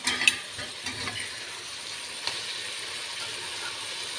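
Bottle gourd pieces fry in a pan with a soft, steady sizzle, while a few light scraping and clinking stir sounds come early on and once more partway through.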